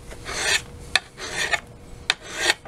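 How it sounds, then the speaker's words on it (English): A hand file is draw-filed along the edge of an axe head clamped flat on a surface, giving three rasping strokes with a sharp tap between each one, close and clear. "this is draw filing"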